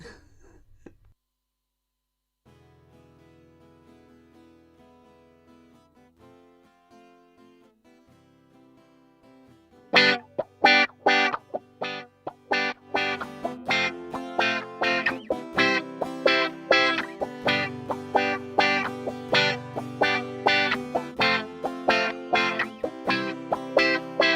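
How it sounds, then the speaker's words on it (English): Soft, filtered guitar chords open quietly, then a funky electric guitar with effects kicks in, playing choppy rhythmic strums in a steady groove. "I'm really enjoying this funky electric guitar."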